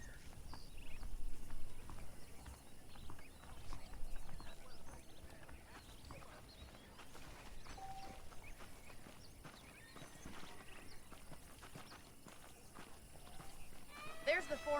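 Horse in Red Dead Redemption, its hooves clip-clopping steadily at a walk with an occasional whinny, mixed with game ambience and a voice talking over it.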